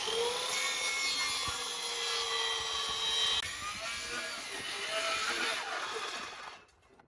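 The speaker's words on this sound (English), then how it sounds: "For that I use a shop saw, but you can use a hand saw." A shop saw cutting wood for a dog porch potty runs with a loud, steady motor whine that shifts in pitch as the blade works, then winds down and fades at the end.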